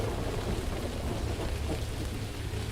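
Steady rain falls outside on a Halloween night, with deep thunder rumbling low beneath the dense, continuous hiss of the downpour.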